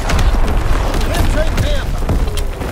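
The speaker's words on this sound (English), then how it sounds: "correct incoming enemy artillery" Heavy artillery shells from incoming enemy fire in Call of Duty WWII thump and boom in a loud, continuous barrage, with a brief shouted voice passing over the rumble.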